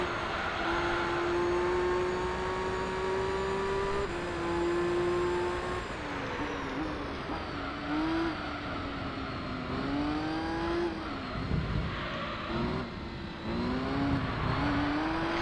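A race car engine in Gran Turismo 3 runs loud and close, with rising whines through the gears, then dips and surges as the car works through corners.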